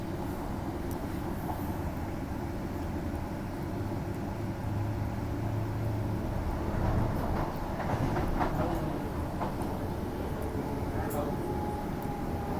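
A Perth Midland-line train passes by a station platform, a steady low rumble and rolling rail noise that swells slightly midway, with faint clatter and a distant, muffled background.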